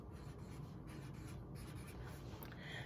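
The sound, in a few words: writing numbers on a worksheet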